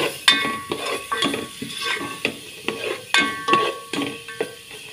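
Finely chopped garlic stirred in a hot pan in a home kitchen, a spoon scraping and clinking against the pan in repeated strokes over a soft frying sizzle.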